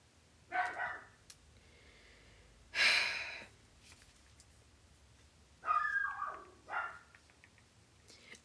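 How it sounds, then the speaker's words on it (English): Dogs barking at home, heard as a few scattered, moderately loud barks or snort-like bursts separated by quiet gaps, with no talk. "I know my dogs bark."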